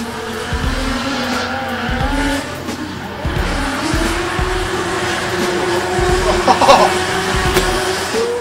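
An S15 drift car with a 2JZ engine at the 2018 D1NZ opening round, engine roaring with tires squealing in long sustained screeches, loud and close, rising and falling through the pass.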